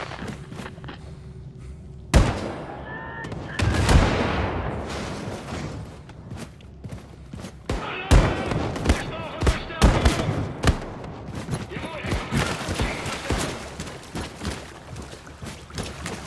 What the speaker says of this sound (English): Getting shot by something.